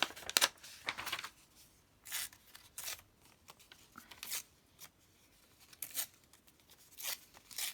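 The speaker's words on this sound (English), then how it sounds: "Let's just tear this off." Paper being torn off for collage ephemera: repeated short ripping bursts spread across the stretch, close and crisp, separated by quiet pauses, with no talk.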